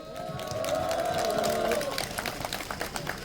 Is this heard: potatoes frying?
no